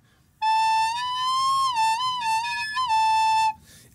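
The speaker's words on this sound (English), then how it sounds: "it probably means that one of the holes on the recorder isn't being covered all the way." Recorder with a tone hole not fully covered, giving a thin, piercing high squeal that wavers in pitch and sustains for about three seconds, loud and alone.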